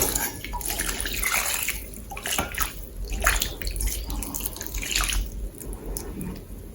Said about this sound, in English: And when you mix enough, you can water the soil.